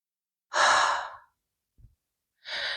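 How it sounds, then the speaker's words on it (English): Slow, deep breaths during a standing yoga stretch with hands interlaced behind the back: a long, airy inhale, a brief soft puff, then another long breath starting, close and quiet with no talk. "Nice deep breaths here."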